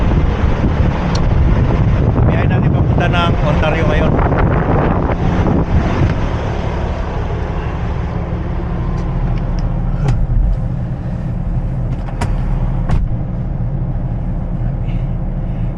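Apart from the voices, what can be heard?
strong wind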